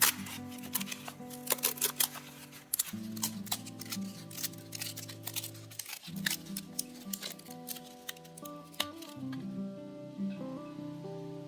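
A foam bowl is cracked and peeled away from a clay press mold, giving a dense series of crisp crackles and crunchy snaps in irregular bursts, close up and fairly loud, with no speech over it.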